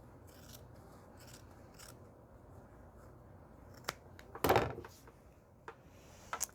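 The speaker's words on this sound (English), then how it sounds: "I'm going to cut a 1/4 inch away from the first line that we stitched" Scissors snip through quilting fabric a quarter inch from a stitched seam. Quiet rasping cuts repeat close by over a soft background hush, with one louder crunching snip near the end and no talking.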